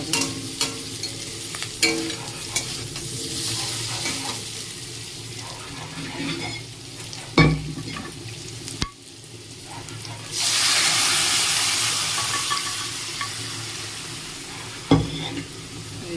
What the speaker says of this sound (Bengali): রসুন আর আলু, এটা ভেজে নিয়ে ডালটা দিয়ে দেবো।